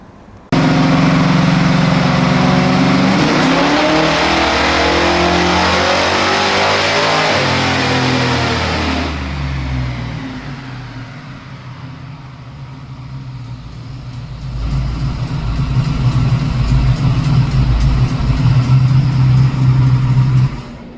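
A 1969 Mustang Mach 1 with a 427 small-block Ford V8 revs hard on a dyno, a loud sustained roar climbing in pitch, easing off through a dip, then building again to a steady high drone, with no talking.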